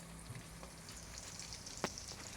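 Food deep-frying in hot oil in a home kitchen, a quiet, steady sizzle and bubbling hiss with a sharp clink or tap near the end.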